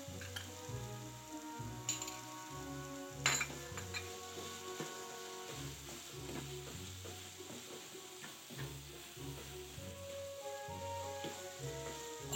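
Chopped tomatoes and chili powder sizzle and fry in a pan of butter chicken masala, with a steady hiss and occasional stirring scrapes running beneath loud rhythmic background music.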